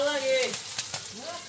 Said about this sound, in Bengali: এই যে পেঁয়াজগুলো এখানে ভেজে নিতে আছে আগে এই যে বেরেস্তা বানিয়ে নিতে আছে